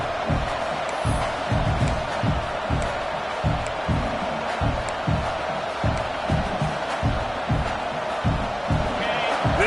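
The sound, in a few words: football stadium crowd cheering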